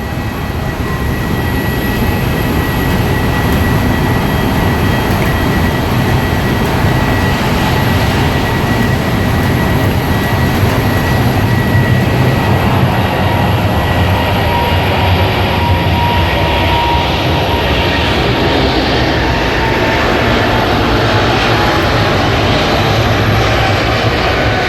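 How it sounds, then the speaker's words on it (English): An airplane takes off at an airport, heard from inside a lounge as a loud, steady engine roar that fills the whole stretch and swells gradually, with no voices. "Now enjoy this takeoff."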